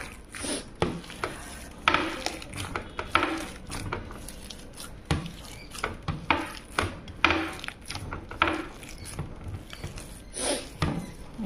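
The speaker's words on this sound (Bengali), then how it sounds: "এটা এখন মাখানো হয়ে গেছে।" Chicken nugget mince being kneaded and mixed by hand in a bowl, giving soft, irregular squelching taps and light knocks, faint and close, with no talking.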